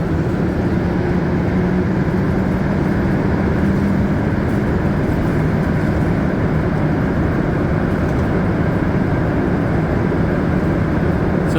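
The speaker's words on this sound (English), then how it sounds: "So this is when the train will start to slow down rapidly." Aboard a Montreal Metro Green Line train in afternoon rush hour, a loud, steady rumble and rolling roar fills the car as the train runs and begins to slow, with no voices heard.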